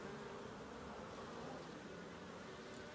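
Honey bees humming in a hive kept in a wine barrel during swarm season, a dense continuous buzz with no voices.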